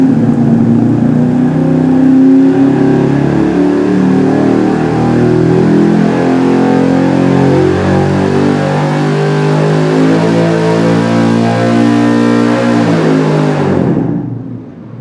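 An engine on a dyno holds a loud, sustained high-rpm pull with layered harmonic tone for about fourteen seconds, then cuts off sharply and winds down, with no talk over it.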